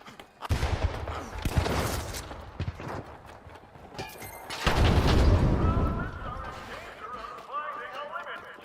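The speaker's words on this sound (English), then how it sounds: "I'm actually getting sniper shots on me, but they can't hit." Sniper shots in the video game The Finals crack out as sharp, irregular impacts within dense, loud game action, along with a sustained burst of noise midway, while a person talks over much of it.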